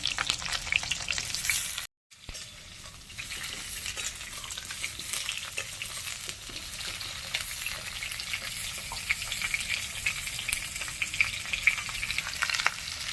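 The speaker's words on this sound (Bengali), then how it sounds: "আলু পুরো ভেজে করলে তাতে বেশি টেস্ট হবে, ওই জন্য ভেজেই আমরা করছি" Potatoes fry in hot oil in a pan during village-style cooking, a steady close sizzle and crackle with stirring scrapes, broken by a brief silent gap near the start and continuing without voices.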